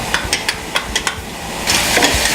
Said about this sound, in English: Now we've been sauteing for a little bit.